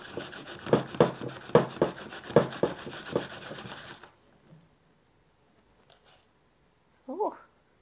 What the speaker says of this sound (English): essentially you need to grate the yam